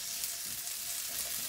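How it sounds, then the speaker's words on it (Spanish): Onion frying in oil in a small preheated pan, a soft, steady sizzle heard close and alone. "Ya yo estoy guisando lo que viene siendo mi cebolla en esta, en este, este sartencito."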